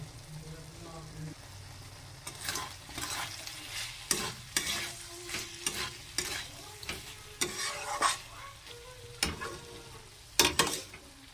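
Green chillies hit hot oil and spices in a kadai while cooking a winter vegetarian cabbage dish, giving a steady sizzle of frying with repeated scraping stirs and clatters throughout.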